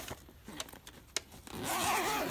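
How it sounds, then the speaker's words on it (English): Zipper on a Thirty-One Deluxe Organizing Utility Tote being worked, a few short sharp pulls and clicks followed by one longer continuous rasping zip, close and clear with no talk. "even has a zipper closure in the back, so you can fit even more stuff out here"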